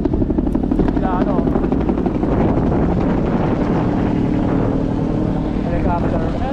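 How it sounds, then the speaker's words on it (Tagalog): Helicopter rotor and engine roar drones steadily and loudly through the whole stretch, heard outdoors during a bicycle ride, with people speaking over it. "Helicopter, helicopter,"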